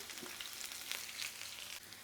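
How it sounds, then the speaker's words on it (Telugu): Chopped onion, green chili and garlic tempering sizzle and crackle steadily in hot oil for a moderately loud, continuous fry with no talking. "ఇప్పుడు ఆయిల్ వేడెక్కాక 1 స్పూన్ తాలింపు గింజలు, సన్నగా కట్ చేసుకున్న ఆనియన్, పచ్చిమిర్చి"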